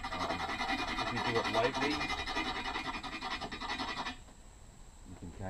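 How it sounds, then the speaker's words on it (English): A steel tool rasps rust off a cast iron wood stove door, a close, continuous gritty scraping under a voice that stops abruptly after about four seconds. "So I just kind of need to start scraping off the rust."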